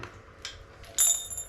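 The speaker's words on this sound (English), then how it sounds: "there's something like so satisfying about a torque wrench going click" A torque wrench gives a single sharp, close click while tightening a bolt on a BMW K100 café racer's kickstand or gear actuator. A few faint ticks come before it in a quiet room.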